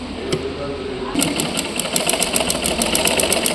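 A sewing machine stitches the collar of a Punjabi dress alongside the buckram. Quiet handling sounds come first, then a steady, close run of rapid mechanical stitching pulses starts about a third of the way in and continues to the end.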